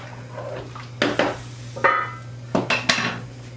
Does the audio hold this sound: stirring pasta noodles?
yes